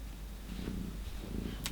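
A cat purrs softly and close by, a low rumbling throb that rises and falls with its breaths across a short stretch, with no talk over it.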